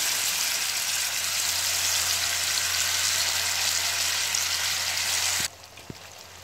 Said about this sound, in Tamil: நம்ம மசாலா போட்ட மீனை எண்ணெயில் போட்டுடலாம்